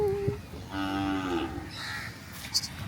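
Cattle moo in one long, drawn-out low call at close range, with faint outdoor background noise.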